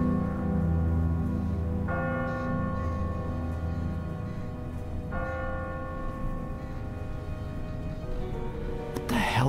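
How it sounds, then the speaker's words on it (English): A church bell tolls in The Walking Dead video game, ringing out loud and resonant with long lingering decay, struck again about every three seconds, with a sharp noise at the very end. "Ask not for whom the bell tolls."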